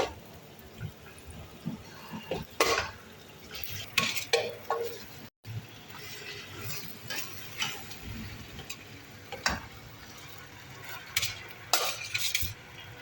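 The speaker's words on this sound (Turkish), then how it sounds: "Evet artık makarnamızı ekliyoruz." Pasta being added and stirred into a yogurt dish in a pot, heard as scattered soft scrapes, clinks and stirring knocks at a low level with quiet pauses between.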